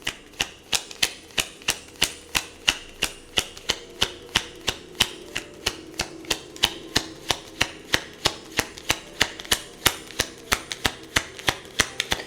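Tarot cards being shuffled by hand, giving a steady run of sharp, evenly spaced riffling snaps close up, roughly three per second for the whole stretch, with no talking over it.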